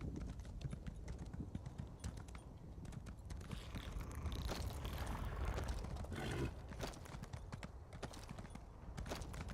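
Horse hooves clip-clopping in the video game Elder Scrolls Online, a quick steady gallop rhythm, fairly quiet and close, with faint mechanical game sounds mixed in and no talking.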